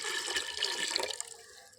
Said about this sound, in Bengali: এক কাপ দুধ ঢেলে দিচ্ছি